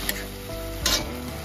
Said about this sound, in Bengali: ভালো করে মশলার সঙ্গে আলুটা কষিয়ে নেব